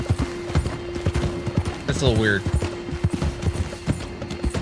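Steady clip-clop of horse hooves while riding, rhythmic and close, with a whinny midway and someone talking briefly over the hoofbeats.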